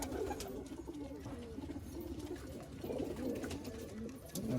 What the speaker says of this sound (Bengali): দেখুন কত সুন্দর পায়রা